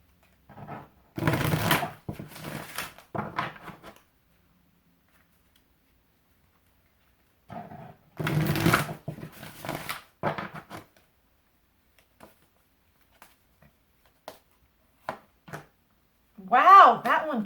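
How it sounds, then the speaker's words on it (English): An Angels, Gods, and Goddesses oracle card deck is shuffled in quick riffling bursts during a reading, two main flurries separated by silence, with scattered faint taps and a voice speaking briefly at the end. "You heard me shuffling."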